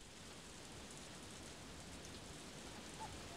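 Steady rain falling at a dig site during a rainstorm in the farming game Harvest Moon: A Wonderful Life, a soft, even hiss of rainfall continuing unchanged throughout, faint and ambient.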